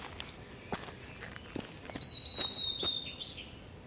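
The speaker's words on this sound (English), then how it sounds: "I can hear the blue and white flycatcher." Blue-and-white flycatcher calling in a summer forest, a thin high whistled phrase of about one and a half seconds, fairly faint and distant, over rustling and footsteps on the forest floor.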